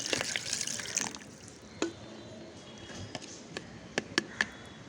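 Water poured into and stirred through stale cooked rice makes faint sloshing, followed by a scattered series of small drips and clicks.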